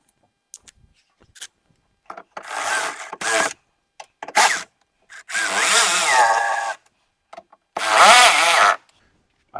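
Bolts being driven to fix a wing window into an old Ford pickup door, with bursts of buzzing power-tool whirring separated by quiet gaps, small clicks and rattles between them.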